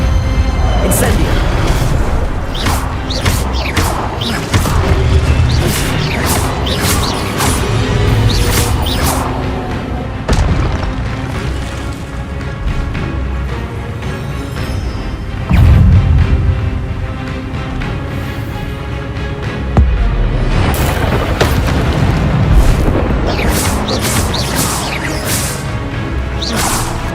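Incendio fire spells blast repeatedly in combat in Hogwarts Legacy, loud booming bursts and whooshes coming in quick succession alongside other spell impacts, with spell-name voices shouting over the clashes.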